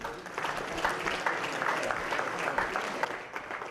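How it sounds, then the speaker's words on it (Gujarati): Audience applauding performers at a stage event in a Mumbai hotel banquet hall, dense continuous clapping from a large crowd, steady and fairly loud throughout. "અન્ય કલાકારોને આપણે તાળીઓથી વધાવીએ"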